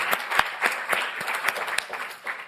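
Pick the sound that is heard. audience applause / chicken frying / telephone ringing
audience applause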